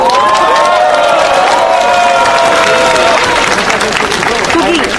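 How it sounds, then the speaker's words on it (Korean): A rally crowd at a protest event bursts into loud cheering, shouting and applause to welcome a lawyer to the stage, a dense roar of voices and clapping close by, with a few shouted whoops above it. "여러분의 뜨거운 함성과 박수로 맞이해 주시기 바랍니다"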